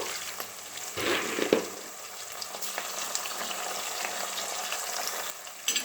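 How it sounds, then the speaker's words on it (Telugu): Peanuts frying in a pan, a continuous soft sizzle with occasional stirring scrapes and knocks, close by, with no talking. "ఇప్పుడైతే దీంట్లో పల్లీలు వేసుకున్నామండి కొద్దిగా వేరుశనగ గుళ్ళు"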